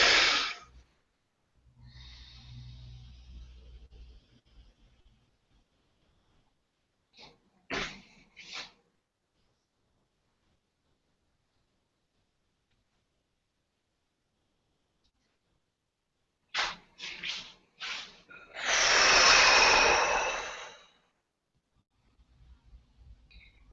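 Deep breathing during a short guided meditation: close, slow inhales and exhales with long quiet pauses between, ending in one long, strong breath.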